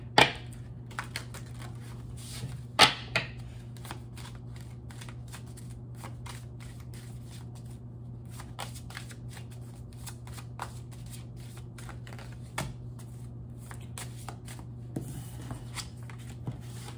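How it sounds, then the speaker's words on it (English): Tarot cards being shuffled by hand, sparse soft clicks and riffles with a sharper burst near the start and around three seconds, over a steady low hum, no voices. "Let me make sure I got this shuffled up really good"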